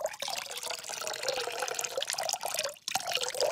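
Water pours steadily into a bottle, a bright gurgling trickle that runs almost continuously with one brief break near the end, close and clear.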